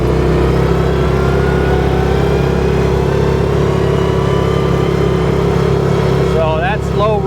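A 2024 Massimo T Boss 550 UTV engine driving in low range at about 15 mph on Tennessee hill country trails, a loud steady droning hum with constant wind rumble, close and continuous.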